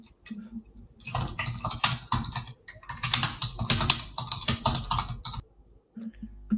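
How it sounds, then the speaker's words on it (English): Rapid, hard clacking of keys on a computer keyboard during an online hackathon call, a busy stream of taps with short pauses, fairly close. "Someone is typing hard over there."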